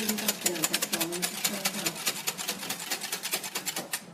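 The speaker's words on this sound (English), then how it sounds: "I'll just give that a quick whisk" A quick whisk beats sugar granules in a bowl while making marshmallows, fast regular metallic strokes ticking through about four seconds, close and steady, with faint voices underneath.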